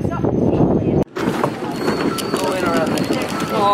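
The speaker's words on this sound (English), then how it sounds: "I had to turn her facing towards me because the wind is too much." Strong wind buffets the microphone outdoors at an apple-picking outing, a loud, continuous rushing roar with a short dropout near the start and gusts swelling again toward the end.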